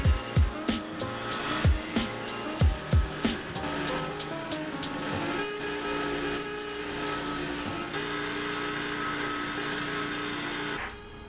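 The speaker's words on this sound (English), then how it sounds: "I'm gonna do some creative grinding on the back of the spine." Grinding on the spine of a handmade knife blade, beginning with a series of rhythmic scraping strokes and settling into a continuous steady grind that cuts off abruptly at the end.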